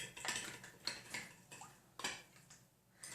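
A spoon or whisk scrapes and taps against a bowl while stirring a thickening cornstarch mixture for microwave sweet and sour chicken, giving a few irregular clinks and scrapes, faint and close, with no voices.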